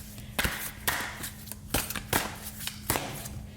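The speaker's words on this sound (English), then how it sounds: "These cards are very hard to shuffle" Stiff tarot cards are shuffled in several separate bursts, each a quick papery riffle, close up over a faint steady hum.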